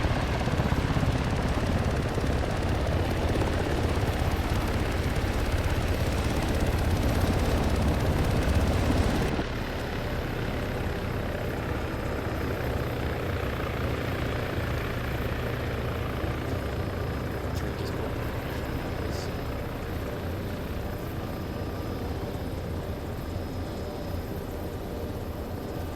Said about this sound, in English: we're taking the UH-60 that's landing now